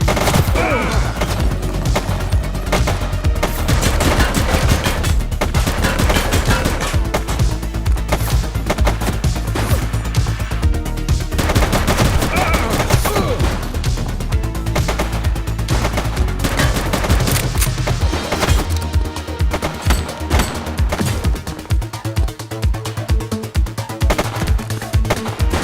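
Dense, loud gunfire fills a police video game shootout in The Precinct, with rapid overlapping bursts and shots firing nonstop and easing slightly near the end.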